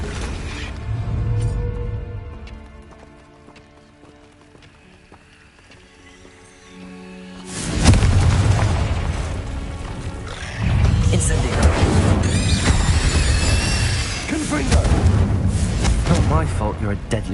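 A Confringo blasting curse bursts loudly in Hogwarts Legacy, a sudden heavy explosive blast that rumbles on amid in-game combat, following quieter ambience and spoken voices.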